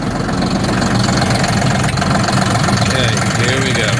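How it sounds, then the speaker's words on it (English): A tractor engine idles and rumbles steadily, loud and close, with a rough, knocking low drone that holds throughout and faint background noise layered over it. "we got to go put the tractor away"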